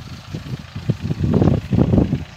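Mahindra 265 DI tractor engine driving a tiller in a field, a rough, uneven chugging that thickens and grows louder partway through, heard alone at close range.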